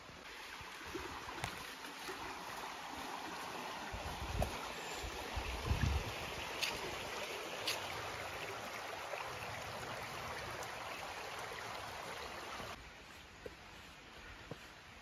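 Forest stream or river in North East England, a continuous soft wash of flowing water with a few brief clicks and knocks close by, ending in a quieter stretch of gentle flow.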